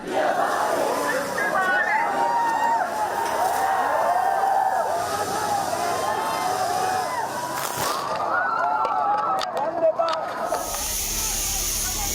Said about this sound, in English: police fired tear gas and water cannons to the protesters as they tried to proceed down the Bank of Ceylon, Mawatha